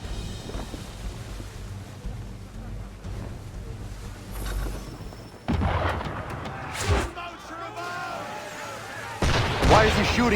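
Ship cannons boom across the water in Assassin's Creed 3, several heavy blasts arriving mid-scene, loud and fairly close, with broadband crashes trailing off amid ambient game sound and voices talking.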